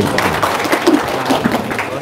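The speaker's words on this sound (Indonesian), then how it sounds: "Wow, tepuk tangan dong" An audience claps briefly in a studio setting, a short spell of scattered applause mixed with crowd murmur and voices.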